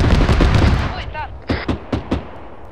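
Gunfire from a tank in ArmA 3 during a winter battle, a heavy burst of shots at the start and then several sharp separate reports, close and loud, with no talk over them.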